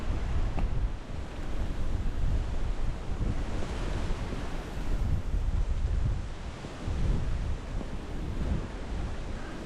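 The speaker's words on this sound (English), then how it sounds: "The wind's really picking up now, so there it is going to be getting quite breezy." Strong wind buffets the microphone outdoors on a countryside trail walk, a loud steady roaring rush that swells and eases in gusts with no voices.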